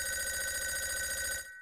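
A telephone rings in the horror game Five Nights at Wario's: a bright, continuous electronic trill that holds steady, then cuts off abruptly near the end.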